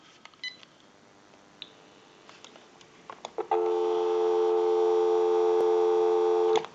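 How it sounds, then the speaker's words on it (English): A GE 27909 cordless telephone gives a few scattered clicks and short button beeps, then a steady, loud dial tone starts and holds unbroken until a final click cuts it off. "Go ahead and give you some dial tone."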